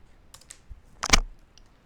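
Computer keyboard typing on a Windows 11 PC, a few sparse light key clicks followed by a louder quick cluster of presses, close and otherwise quiet.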